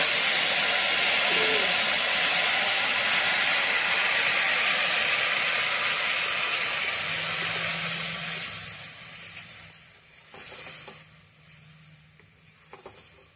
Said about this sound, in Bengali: মশলা ভাজা করতে হবে